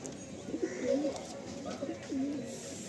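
A pair of black Madrasi pigeons, a male and a female, coo softly at close range in a few short, rolling phrases separated by brief pauses against a quiet background.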